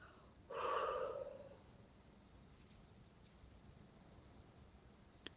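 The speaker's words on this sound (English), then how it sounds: "take a breath in and take a breath out and breathe out through your mouth" A single sharp breath drawn in through the mouth, strong and close for about a second, then fading into a long, quiet exhale over faint room hiss.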